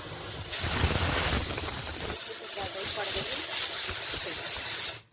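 A pressure cooker on a home kitchen stove hisses loudly with steam, a continuous harsh rush that starts abruptly and pulses unevenly for several seconds before cutting off, with faint voices underneath.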